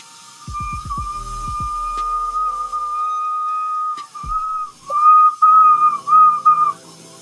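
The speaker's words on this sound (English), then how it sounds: "Yeah, we definitely got a whistle there." Sustained whistle from glass being torch-worked in a studio, pulled thin by picking; a steady tone holds for about four seconds, then breaks into several shorter pulsing bursts, with a few low knocks at the start.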